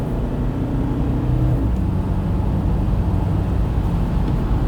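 Toyota Fortuner GR Sport pulling hard in Sport mode, heard from the cabin as a loud, steady engine drone and road roar that swells after a moment and then holds.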